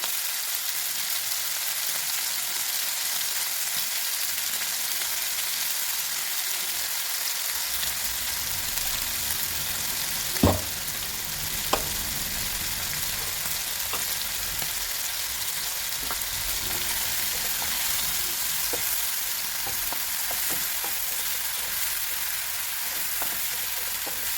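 Chicken pieces sizzle steadily in a hot pan as ground spice paste goes in, giving a continuous close frying hiss with a couple of sharp clinks and no talking.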